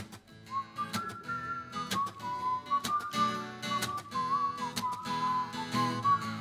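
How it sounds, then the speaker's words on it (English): A person whistles a bright melodic tune, wavering and sustained, over a soft strummed accompaniment, close and clear with no talking. "Can you whistle that with me?"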